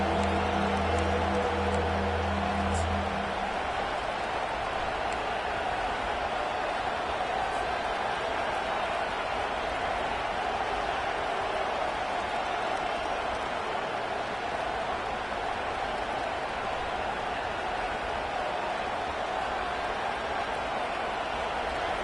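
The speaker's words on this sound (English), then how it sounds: "Decibels rising as the crowd gets behind this defense on 3rd down." Football stadium crowd at a Penn State vs. Purdue game builds into a sustained roar on a third-down play, a broad, steady wash of many voices that holds throughout, with a brief low tone near the start.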